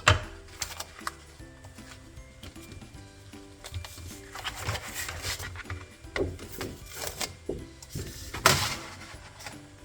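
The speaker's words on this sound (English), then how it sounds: "I'm just gonna grab off cut off a little piece of transfer tape here." Transfer tape being pulled off its roll and cut, a run of close dry rasps, crinkles and scrapes with several sharper bursts, no talking.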